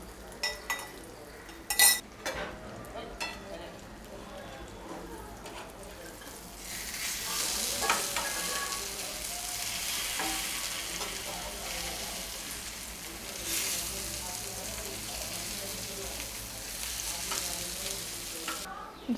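Semolina-coated brinjal slices frying in plenty of oil make a continuous loud sizzle that swells midway, with a few sharp utensil knocks early on and occasional scraping as the slices are moved.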